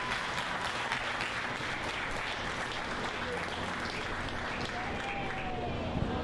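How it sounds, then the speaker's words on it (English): Audience applause at a county swine show in a livestock barn, a steady wash of many hands clapping throughout, with faint background voices and an echoing arena ambience. "Give him a big round of applause."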